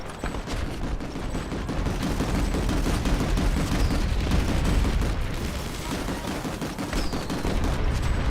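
Scout rifle gunfire in the online shooter Planetside, a continuous dense clatter of overlapping shots and distant battle noise without pause.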